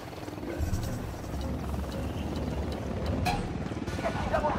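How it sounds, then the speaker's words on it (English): A helicopter comes in during a Ghost Recon Wildlands firefight at a hacienda, a low, rumbling rotor roar building over a few seconds, mixed with distant combat noise and brief shouted voices. "We got a chopper coming."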